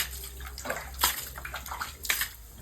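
Water is poured in short, splashing bursts, two louder gushes standing out over a steady background hiss in a kitchen where potatoes are frying.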